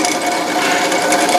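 A drill press runs steadily with a dense, continuous mechanical whir, close and loud, with no pauses across the short stretch.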